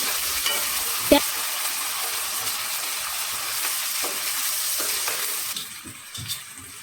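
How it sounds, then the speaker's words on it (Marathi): Onions frying and being stirred in a pan for a village-style Vidarbha chicken curry, a steady close sizzle with a couple of sharp utensil knocks, easing off near the end. "याला मस्त भाजू द्यायचंय म्हणजे कांद्याचा कच्चापणा राहणार नाही"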